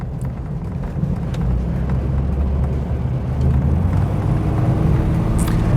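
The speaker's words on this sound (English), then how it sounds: "Let's go and do one more lap in the Granada." A 1970s Ford Granada MK1 heard from inside on a lap, its engine giving a steady low rumble mixed with road and wind noise that swells slightly toward the end.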